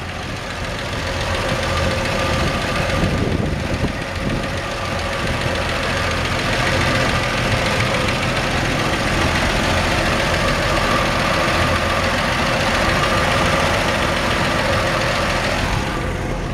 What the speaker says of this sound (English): Take a listen to the engine. Engine runs great.